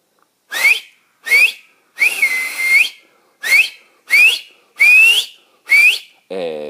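Finger whistling meant to ward off bears: seven loud, sharp, rising whistle blasts in steady succession, some short and one longer, ending with a brief lower tone.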